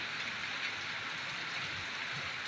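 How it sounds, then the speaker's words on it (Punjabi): Steady, heavy rain pours down on a market in Fatehgarh Churian in a dense, continuous hiss, drumming evenly on surfaces with no voices over it. "ਇਹ ਲੋ ਬਰਸਾਤ ਫੁੱਲ"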